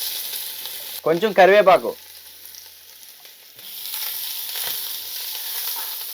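Chopped onions and green chillies sizzle in oil in a pan, a steady frying hiss broken early by a short spoken phrase, then swelling again to a fuller crackle.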